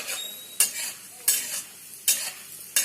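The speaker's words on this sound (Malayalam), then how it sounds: "പൊട്ടുകടല ഒരു ബ്രൗൺ കളറാവുന്നതിന് വരെ നമുക്കതിനെ നെയ്ക്കകത്ത് വഴറ്റിക്കൊണ്ടിരിക്കാം." Roasted gram being stirred and sautéed in ghee in a pan makes a steady sizzle, broken by four regular scraping strokes of the spoon, close and clear with no talk.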